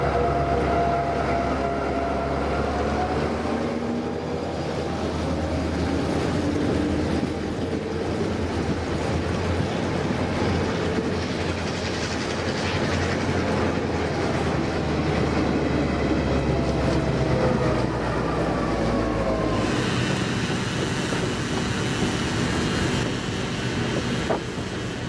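Passenger carriages formerly used on Auckland's suburban network roll past on a New Zealand railway, a steady loud rumble of wheels on rail with faint clickety-clack and some wind on the microphone, the tone shifting near the end.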